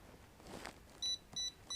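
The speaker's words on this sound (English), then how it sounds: "You hear that alarm going off?" A small tilted hot plate's overheat alarm sounds three short, high electronic beeps in quick succession, fairly loud against a quiet room after a soft faint rustle.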